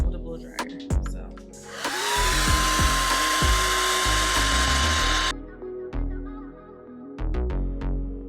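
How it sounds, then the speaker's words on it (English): A handheld blow dryer drying the sewn tracks of a quick-weave hair install blows a steady, close whoosh for a few seconds. Clicks and handling knocks come before and after the airflow stops. "I always like to seal these tracks with a blow dryer"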